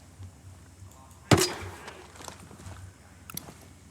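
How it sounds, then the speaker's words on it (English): A sensor launcher fires in Ghost Recon Breakpoint with one sharp, loud pop and a short whooshing tail, set against a quiet ambient bed with faint clicks afterward. "Let's use our sensor launcher first."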